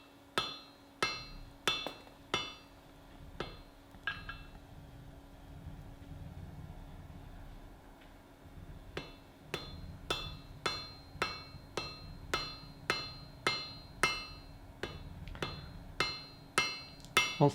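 A hammer forges a cleft weld on hot steel, giving sharp ringing blows in a steady rhythm with a short lull in the middle, then quicker strikes resuming.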